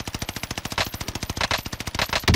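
Sustained automatic gunfire in the Warzone Caldera video game, a steady rapid stream of loud close shots hammering evenly for a couple of seconds without any voices.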